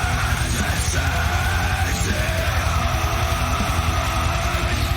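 Sludge metal from an album plays at a steady, dense volume, with heavy distorted low-end guitars and bellowing, shouted vocals throughout.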